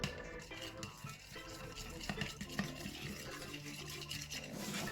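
A glue-free homemade slime mixture with a few drops of coloring is stirred in a container, producing faint wet squelching and scraping with soft clicks throughout.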